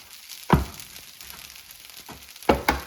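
Eggs hit a hot pan of mango fried rice, giving two sharp sizzling bursts, one near the start and one near the end, with a softer steady frying hiss between them.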